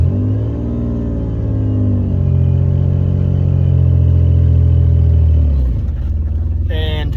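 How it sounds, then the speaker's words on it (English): A Ford Ranger pickup truck in four-wheel drive gives a deep, steady engine rumble that swells a little and then drops near the end, close and loud. "Gotta put it in 4-wheel drive."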